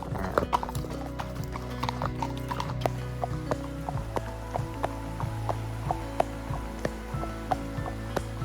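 Steady clip-clop of hooves from Dixie, a 15-year-old registered paint mare, walking along a trail through rural Virginia, the regular beat close and clear over a low constant background rumble, with no voices.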